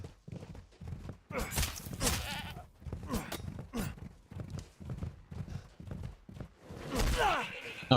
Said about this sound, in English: now goat is an animal I would expect to be much more dangerous than a pig